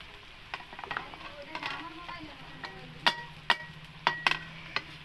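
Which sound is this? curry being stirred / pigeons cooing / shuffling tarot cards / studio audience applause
curry being stirred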